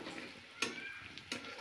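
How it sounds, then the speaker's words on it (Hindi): Turmeric and cumin powder stirred in a pan on the stove, quiet steady sizzling with two soft scraping strokes of the spoon, fairly faint and without talk. "अब मैं गोलकी जीरा का पाउडर डाल देती हूँ, चला लेती हूँ।"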